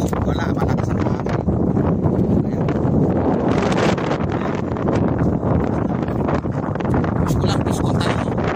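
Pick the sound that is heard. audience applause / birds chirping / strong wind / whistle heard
strong wind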